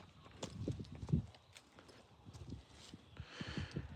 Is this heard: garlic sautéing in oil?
no